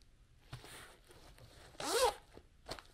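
A YKK zipper on a Helikon Tex Bandicoot waist pack is pulled in one quick, close zip, with faint handling rustles before and after in a quiet room.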